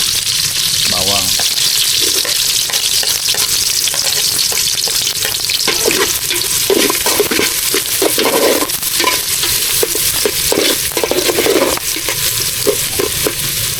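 Garlic frying in a pan outdoors beside a river, a loud, continuous sizzle with repeated scraping stirs across the pan and a steady wash of background noise.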